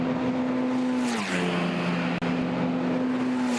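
Formula Renault Eurocup race cars at Paul Ricard heading toward the chicane: a loud steady engine whine that drops in pitch as the car slows, with one brief sharp click partway through.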